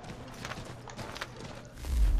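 Horse hooves clip-clop at a steady rhythm in the Assassin's Creed 3 video game, close and moderately loud, ending with a deeper low rumble.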